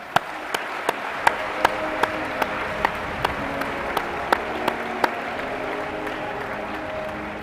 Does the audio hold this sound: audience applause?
yes